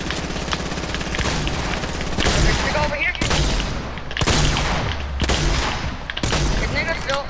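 Rapid video game gunfire in a battle royale match, dense bursts of automatic shots crackling almost continuously and loudly, with players talking over the shooting.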